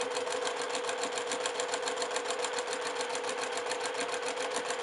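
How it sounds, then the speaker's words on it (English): Sewing machine stitching a 1/4 inch seam on a quilt block, a steady, fast mechanical whir with even rapid needle beats, close and continuous throughout with no voices. "So now I'll just stitch next to that line 1/4 inch."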